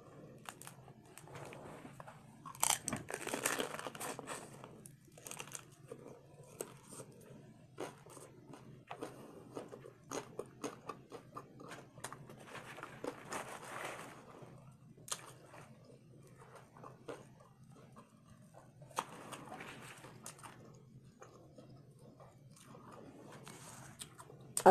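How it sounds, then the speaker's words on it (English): Someone eats crunchy homemade tacos up close, with irregular biting crunches and steady chewing spread across the stretch, louder bursts of crunch scattered among quieter mastication. "Let me eat one taco here."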